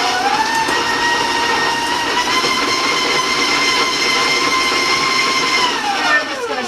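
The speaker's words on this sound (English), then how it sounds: "I'm going to turn on my mixer, so I want to warn you about the sound." Electric stand mixer running at medium speed while beating cookie batter with granulated sugar, a steady loud whirring motor hum with a high whine that holds evenly, then winds down at the end.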